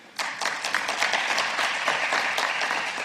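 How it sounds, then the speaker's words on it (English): Audience at an economics seminar breaks into applause to welcome a speaker, starting abruptly and continuing as a full, steady wash of many clapping hands. "Please welcome him with big applause"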